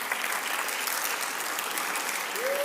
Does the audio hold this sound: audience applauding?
yes